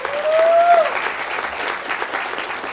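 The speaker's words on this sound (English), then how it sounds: "Let's give them a round of applause" A conference audience at the closing remarks breaks into warm applause, a dense wash of many hands clapping that holds steady for a few seconds.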